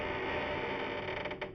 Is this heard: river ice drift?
no